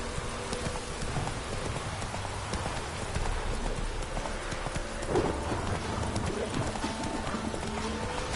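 In The Witcher 3, the horse Roach gallops with a continuous rapid clip-clop of hooves against a patter of rain, with occasional faint other game sounds mixed in.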